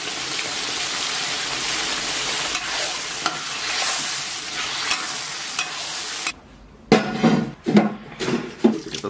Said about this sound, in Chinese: 咱们简单给它煸炒，煸炒一下，炒香，炒出红油。